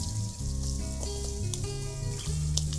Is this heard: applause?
no